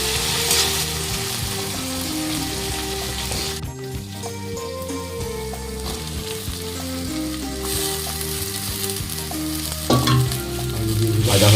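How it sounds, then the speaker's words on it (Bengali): Okra (bhindi) frying in a pan, a continuous sizzle running under louder music throughout, with a brief clatter near the end. "সকালবেলায় উঠেই ভেন্ডি ভাজা চালু হয়ে গেছে।"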